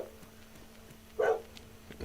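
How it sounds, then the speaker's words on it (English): A dog lets out a single short bark partway through, fairly close, over a quiet room with a low steady hum and no speech. "he's been barking at the deer and everything that walks through the yard."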